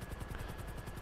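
A helicopter in the video game GTA V Online gives a fast, steady rotor chop, rhythmic thumping pulses at moderate level with no voices.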